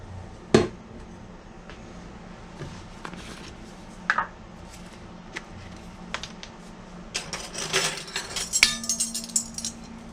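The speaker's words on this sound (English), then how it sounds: "Let me get that measuring cup out of there" Measuring cup clinking and knocking against dishes while making a steak marinade with minced onion, a few sharp close clinks scattered among softer handling rattles, busier toward the end, no talk.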